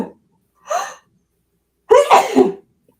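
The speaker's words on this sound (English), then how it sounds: "I got to sneeze." A short sharp intake of breath, a pause, then a loud, close sneeze erupting in one forceful burst.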